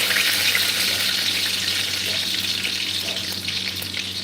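Garlic fries in a pan with a loud, dense, continuous sizzle up close that fades slightly toward the end, with no talking.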